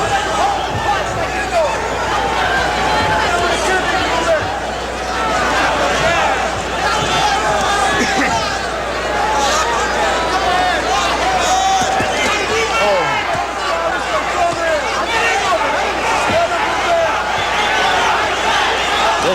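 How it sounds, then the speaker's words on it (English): A boxing crowd roars in an arena during Julio Cesar Chavez versus Ruben Castillo, a dense, steady wall of cheering and shouting that holds loud for the whole stretch, with a commentator talking over it. "Listen to the crowd now."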